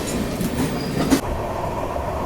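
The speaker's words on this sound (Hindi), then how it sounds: "बट फ्रेट ट्रेन्स खूब सारी क्रॉस हो रही हैं" Train running on rails on the Mumbai–Howrah route with passing freight trains, giving a steady close rumble and wheel noise, with a brief clatter partway through and no voices.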